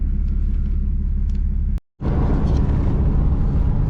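A Dodge Ram truck on a drive gives a steady low road rumble from inside the cab, broken by a brief cut to silence before the droning engine and tire noise continue.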